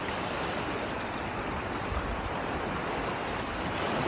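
Canal water flowing steadily, a dense continuous rushing wash with no pauses, close and fairly loud, with no voices.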